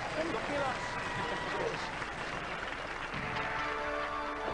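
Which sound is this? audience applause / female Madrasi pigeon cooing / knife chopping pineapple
audience applause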